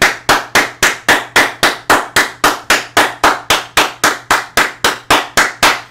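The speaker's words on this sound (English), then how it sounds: "I'll give him a standing ovation." One man claps in a steady, regular rhythm, about twenty sharp, loud claps close by, each evenly spaced, with no voices.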